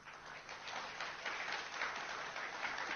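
Steady audience applause fills a conference hall after remarks by a U.S. cabinet secretary at the Manama Dialogue energy security forum, a dense, even wash of clapping that holds for the whole stretch with no voices over it.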